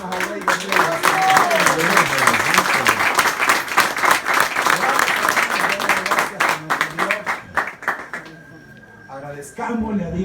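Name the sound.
congregation applauding in church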